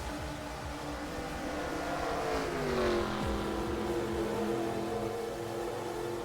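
Video game race cars running at Dover, engines droning loud and steady with a pitch sweep as cars pass, layered motor tones throughout and no talk.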